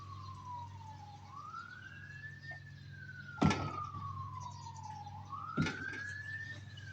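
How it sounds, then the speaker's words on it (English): A wailing emergency vehicle siren sweeps slowly up and down in pitch at a moderate distance, approaching, with a couple of dull knocks nearby. "them sirens are getting closer"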